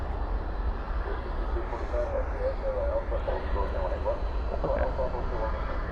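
A jet airliner rolls past at DFW airport at night, its engines a steady, loud, broad roar filling the scene while a person talks briefly over it.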